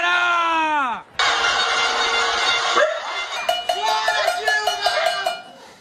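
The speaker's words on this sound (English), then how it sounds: "People were banging their pots," Pot-banging protest in Sao Paulo, rapid metallic clanging of pots struck in quick irregular bursts from many people at once, following a stretch of loud shouting and a brief gap.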